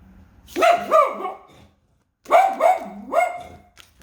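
A dog barks close by in two quick bursts, each with two or three sharp yelps, separated by a brief silence.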